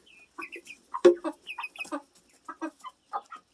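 A few meat chickens cluck nearby in short, irregular bursts of soft clucks and chirps with quiet gaps between.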